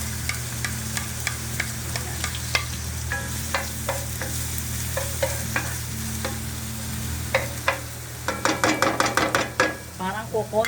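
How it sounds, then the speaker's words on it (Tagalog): Garlic fries in oil in a pan for bok choy with shiitake mushrooms in oyster sauce. A constant close sizzle sits under repeated utensil scrapes and taps, which turn into a quick burst of clatter near the end. "Pulahin natin ang ating bawang dito."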